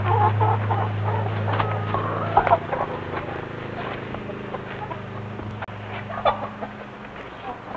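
Chickens on a farm cluck steadily at close range over a low, constant background hum, with a few louder squawks and clucks standing out.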